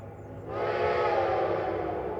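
A train passing below an attic vantage point, a steady loud whistle-like tone rising in after about half a second and holding over a broad rumbling wash, with no talking.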